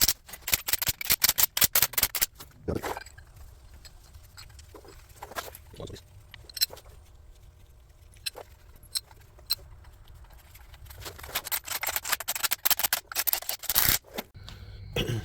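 Bolts being snugged up by hand without a torque wrench during a Yanmar 3TNV70 engine swap: rapid bursts of sharp metallic clicking open and close the clip, with sparse quieter ticks and knocks in between.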